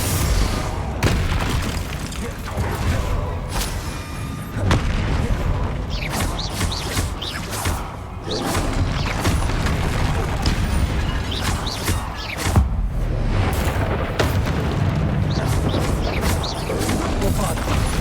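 Repeated Bombarda spell blasts from the video game Hogwarts Legacy, loud booming explosions and crashes in a dense, continuous battle mix with music and effects throughout.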